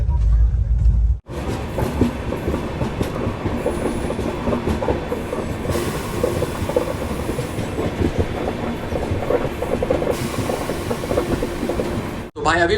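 Saraighat Express between Howrah and Guwahati running at speed: a steady, loud rumble of wheels with clickety-clack rhythm and faint squeals throughout, a brief break near the start and end.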